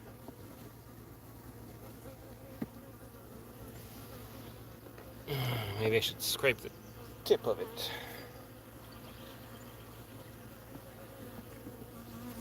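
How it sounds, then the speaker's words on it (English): Honeybees buzz around an open beehive as frames are set in place, a steady insect hum that swells for a few seconds with handling noises, while a person speaks briefly. "Now these bees are going to have a lot of work cleaning up these frames"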